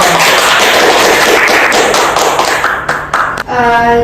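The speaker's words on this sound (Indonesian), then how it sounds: "lu tepuk tangan dulu dong" Hands clapping in a noisy room, a dense burst of overlapping claps lasting a few seconds, fairly loud, thinning out near the end as a tonal sound and voices take over.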